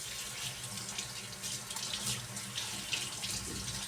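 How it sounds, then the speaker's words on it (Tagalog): Vegetables being washed under a running kitchen tap, a steady close hiss and splash of water into a sink that continues evenly throughout with no talking. "huhugasan natin dito mga kasipag sa ating hugasan na gulay."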